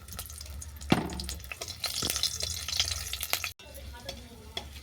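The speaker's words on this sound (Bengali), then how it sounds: "এই তেলের মধ্যেই কাঁচা লঙ্কাটাকে ভেজে নিচ্ছি।" Fresh green chilies fry in hot oil left from browning garlic, giving a continuous sizzle and hiss with occasional sharp clinks and stirring scrapes, close up with no talk.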